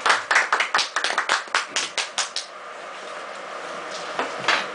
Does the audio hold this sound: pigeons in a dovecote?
no